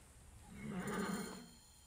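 A horse in a video game gives a single faint, drawn-out neigh that swells and fades over quiet background ambience.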